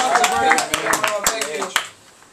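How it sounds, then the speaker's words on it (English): Comedy club audience clapping at a stand-up set: a scattered handful of sharp, separate claps over murmuring voices, trailing off into quiet near the end. "Yeah, just clap because I made it."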